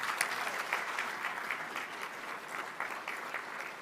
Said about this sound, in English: Again, another round of applause for Kyle.